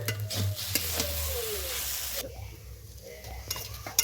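A spoon stirs sabu pulao (sago pearls finished with ghee and shahi garam masala) in a pan over heat. The scraping is steady and close, with a soft sizzle underneath, and no one speaks.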